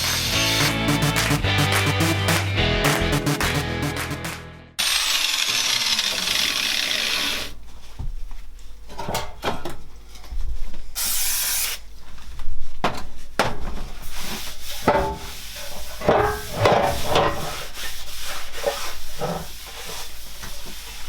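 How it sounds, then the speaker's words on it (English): An angle grinder fitted with a Scotch-Brite pad works over the fuel tank of a Honda CB250 scrambler, a loud, continuous whirring abrasion that shifts in pitch and texture as the pad is pressed and moved, with a brief cut in the middle. "you can use an angle grinder with a Scotch-Brite pad on it, which is what I'm going to do"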